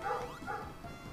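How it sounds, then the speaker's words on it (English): A pet dog barks and yips in the background during a gaming session, a few quick muffled barks in a row at moderate level with no talk over them. "Sorry for my dog barking in the background."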